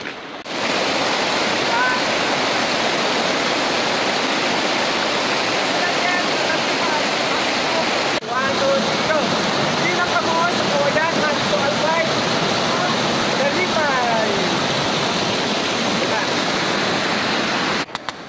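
River water at Dalipay rushing and churning steadily, loud and close, with a constant broadband roar like a waterfall and people talking faintly beneath it.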